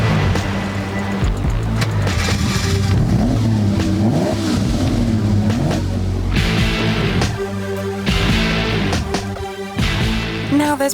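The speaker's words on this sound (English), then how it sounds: "It's the 250 GT California Spyder." A Ferrari 250 GT California Spyder, a classic two-seater roadster, revving loudly and close, its engine note rising and falling through several sustained pulls with a few brief lulls.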